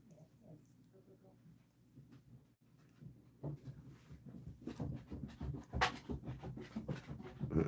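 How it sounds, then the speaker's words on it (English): A dog climbs a staircase indoors, its quiet paw taps growing denser and louder over several seconds, with soft panting and occasional creaks in between. "Hear my dog's footprints going up the stairs."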